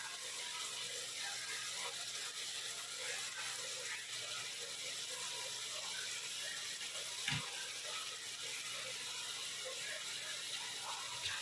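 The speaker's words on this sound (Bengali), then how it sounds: "এই আলুটাকে আমরা ভাজবো, তবেই আমাদের ফ্রেঞ্চ ফ্রাই তৈরি হয়ে যাবে" Potatoes for French fries frying in hot oil give a dense, steady sizzle and crackle that runs unbroken throughout, with one brief low knock partway through.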